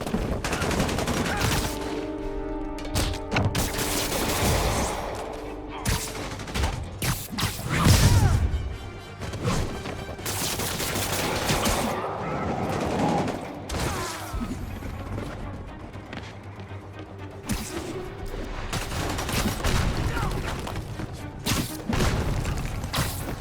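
Enemies with guns firing in Marvel's Spider-Man Remastered, rapid bursts of shots and heavy impacts clattering through a busy, loud combat scene that carries on for the full stretch.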